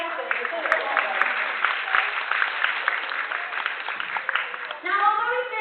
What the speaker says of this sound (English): You can have a clap for that.